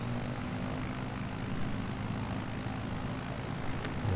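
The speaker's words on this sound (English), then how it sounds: "let's apply full power and get airborne" A propeller airplane engine runs at full takeoff power in Microsoft Flight Simulator, giving a steady, loud, droning hum with a low throb that holds throughout.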